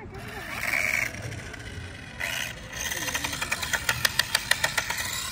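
Custom RC car spinning in a garage: a whirring electric motor revs in bursts, then a run of rapid rhythmic pulses as it spins, with people talking over it.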